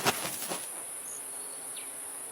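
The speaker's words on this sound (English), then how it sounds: "Dawson's bee is one of the largest in the world." Insects buzz faintly in the dry Australian outback, with a few brief rustling bursts at the start followed by a thin, steady high hiss like crickets, and a short buzzing pass near the end.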